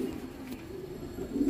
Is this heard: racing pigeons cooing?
yes